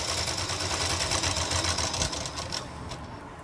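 A sewing machine runs a continuous close, rapid rattling stitch along a double seam on loose palazzo pants, slowing and quieting toward the end.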